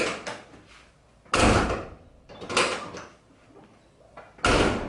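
A 1989 Ford Bronco door is shut three times, each a loud, close, solid thump with a brief rattle, separated by quiet gaps and with no one speaking.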